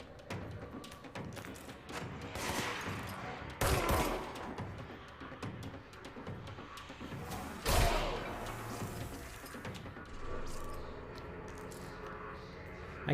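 Rapid bursts of gunfire from a supernatural third-person shooter, volleys of shots and heavy thumps repeating over continuous background noise, with two especially loud impacts standing out.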